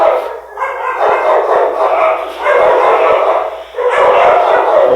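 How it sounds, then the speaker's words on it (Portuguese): A dog barks in short, loud, close bursts over a steady broadband hiss, with brief gaps between yips and a howling edge to some calls. "Cachorro."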